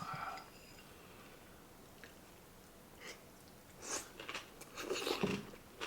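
Close, crunchy chewing and biting of raw yellowtail eaten with aged kimchi in a soy-sauce base, soft at first, then growing into a louder burst of wet crunching bites near the end.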